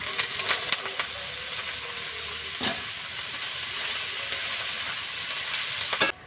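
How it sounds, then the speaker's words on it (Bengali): Leafy greens tipped into a hot pan with turmeric hiss and sizzle steadily, with a few sharp clatters and scrapes from a spatula and a brief louder burst before the sound cuts off. "শাকটা ঢেলে দেবো।"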